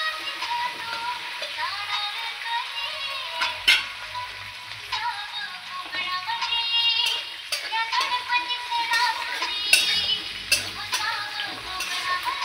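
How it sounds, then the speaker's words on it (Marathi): Chopped green chillies roast in a pan, giving a steady sizzling and frying hiss with occasional clinks and stirring scrapes, moderately loud and continuous throughout with no talking. "मिरची भाजत आलेली आहे"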